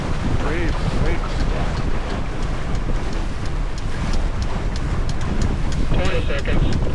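Steady wind and rushing water around a sailboat racing in a regatta, a loud continuous broadband roar with buffeting on the microphone throughout, and no clear break in the noise.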